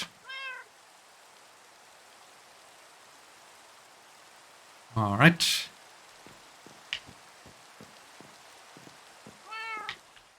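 A house cat meows twice, a short close call at the start and another near the end, with a brief burst of rustling and soft clicks in between, and a voice says a word in a quiet room.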